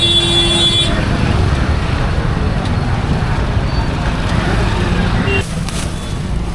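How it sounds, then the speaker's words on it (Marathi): Loud, constant road traffic rumbles along a busy street, a dense wash of engine and tyre noise with a few faint horn tones and voices mixed in. "बाहेरच्या रस्त्यावर पण किती ट्रॅफिक वाढलं आहे"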